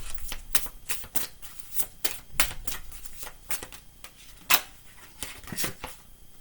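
Tarot cards being shuffled by hand, a quick series of crisp riffling snaps and flutters in irregular bursts, close and clear against a quiet room with no talking.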